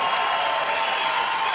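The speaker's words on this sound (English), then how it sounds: "Let's give them a tremendous round of applause." A crowd at a combat sports fight applauds and cheers, producing a dense, steady wash of clapping and voices that is loud and continuous throughout.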